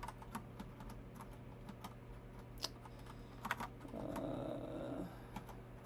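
Typing on a computer keyboard while coding, scattered soft key clicks and a few sharper taps, quiet and close, with a brief low hum near the end.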